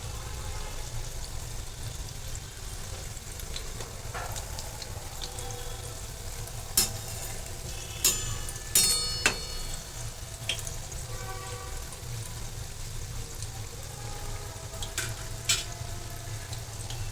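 Onion bhaji batter fries in hot oil with a continuous close sizzle and a low rumbling hum beneath, punctuated by a few sharp clinks and stirring taps, no speech.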